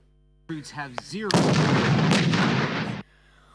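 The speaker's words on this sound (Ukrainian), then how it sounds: "Ось так точним пострілом з одноразового гранатомета військовослужбовець Нікіта влучає в умовну ціль" A loud blast from a disposable grenade launcher fired by a soldier at a target bursts out after a short bit of speech, followed by a sustained roaring rush that cuts off abruptly.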